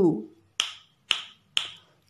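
Three crisp finger snaps at an even, steady pace, close and alone, with a short low voiced sound just before the first, used to count out the digit in a ones-and-tens number game.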